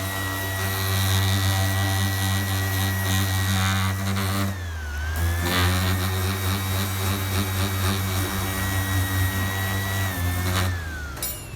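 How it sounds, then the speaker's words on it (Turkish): Loud, continuous whine of a power sander working a wood-veneer car console, a steady motor drone that dips in pitch briefly twice as pressure changes. "Bunlar için de bir ince zımpara yapmak lazım"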